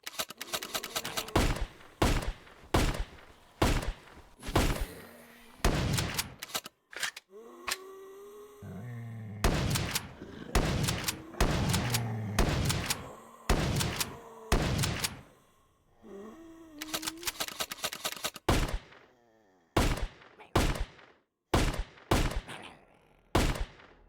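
Rapid bursts from several guns fired at once in VRChat crack out in fast, loud volleys, broken by short pauses and occasional single shots, with a faint voice mixed in.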